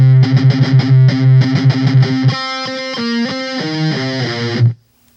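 Distorted electric guitar playing a slowed-down passage from a song, a fast run of picked notes followed by sustained sliding phrases, loud and close, ending abruptly with silence.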